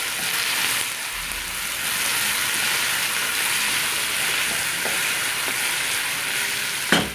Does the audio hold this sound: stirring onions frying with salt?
yes